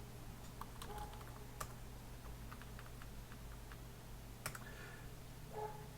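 Someone types on a computer keyboard while programming, a quiet, irregular run of light key clicks and taps in bursts over a low steady background hum.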